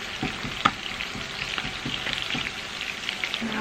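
Beef and broccoli stirred in a hot frying pan, an active sizzle broken by repeated scrapes and clicks of a utensil against the pan at close range.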